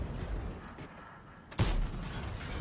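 A single heavy tank cannon shot in a video game, a sharp nearby blast that drops into a rumbling tail over quiet battle ambience.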